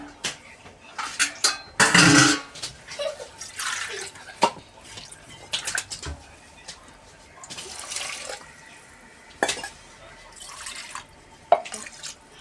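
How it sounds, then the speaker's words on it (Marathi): Water poured into a pot of rice in a home kitchen, splashing and dripping in short bursts with clinks of utensils against the pot, fairly close. "आता मी पाणी टाकून घेते."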